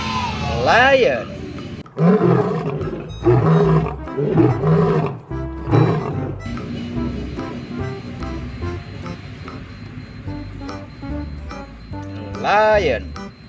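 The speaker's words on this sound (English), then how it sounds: "Lion." A toy lion lets out several loud electronic roars, spaced apart, alongside voices talking and naming other animal toys.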